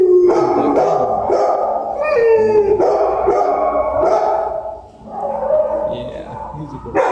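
Zeus, a dog kept in a kennel at the PACC animal shelter, lets out a series of drawn-out, wavering howls mixed with yips and short barks, close by, while people talk nearby.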